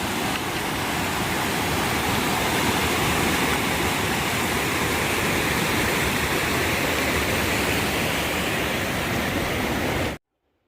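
Dismal Falls, a waterfall on the Appalachian Trail, roars in a steady, dense wash of falling water, loud and close with no break until it cuts off abruptly.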